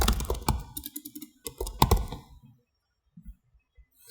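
Clattering keystrokes on a computer keyboard, a quick uneven run of close taps and clicks that thins out into a few isolated presses.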